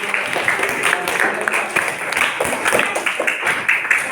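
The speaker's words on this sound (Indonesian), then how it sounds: "Kita beri aplaus untuk jawaban kelompok 4" A classroom of students applauds a group's answer, with dense, steady clapping that runs for about four seconds at close range, mixed with some voices.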